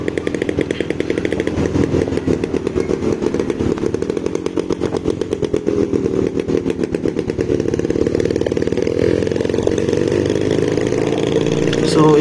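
A Kawasaki HD3 motorcycle with its stock exhaust pipe runs loud and close, a rapid buzzy pulsing engine note that holds steady with slight rises and dips throughout.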